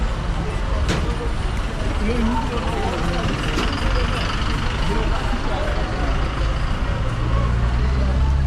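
Matatu minibuses and general traffic rumble along a busy Nairobi street, with engines droning continuously and faint horn and brake sounds in the mix; people talk over the street noise.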